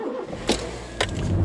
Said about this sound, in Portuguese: Vamos dar uma voltinha nesse carro e vamos ver se ele atende realmente às nossas expectativas.